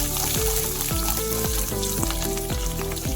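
Thinly sliced ginger and garlic sizzle steadily in a hot pan of oil, a loud, even crackle that holds throughout with no talking.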